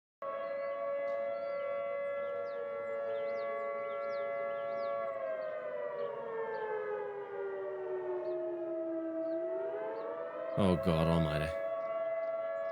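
A tornado warning siren wails steadily, its tone sliding slowly down and then climbing back up. A voice exclaims loudly near the end over the sound.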